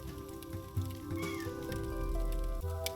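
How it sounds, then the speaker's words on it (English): A house cat meows from close by, several drawn-out cries in a row over faint rainfall, with no talking. "I hear my cat meowing, so now I have to let him out"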